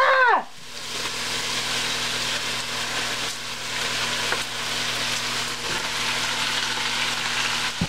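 Chicken for keto jalapeno popper chili is mixed and cooked in a pot, a short clunk at the start followed by a loud, steady sizzle with faint stirring scrapes and no voices.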